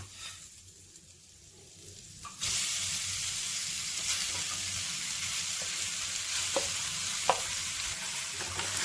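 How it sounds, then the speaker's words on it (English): Rice being stirred in a pan with fried onions and chana dal. A quiet start gives way to a sudden loud, steady sizzle, with occasional scraping clicks of the spoon against the pan. "Now mix the rice well with the onions and chana dal."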